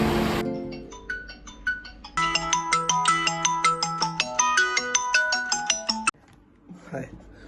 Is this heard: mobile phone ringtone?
yes